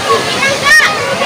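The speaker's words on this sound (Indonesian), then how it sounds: "Oh airnya lah turun dari sini." Water of the Curug waterfall at Kebun Raya Cibodas, Bogor, rushes in a steady, broad roar throughout, close and loud, with a voice speaking over it.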